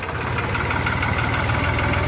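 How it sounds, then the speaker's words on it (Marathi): A tractor engine runs loud and close in second gear while hauling a load of four to five tons, a steady throbbing drone with a rapid pulsing beat and no talking. "तरी पण ट्रॅक्टर आता दुसऱ्या गेअरवर आहे"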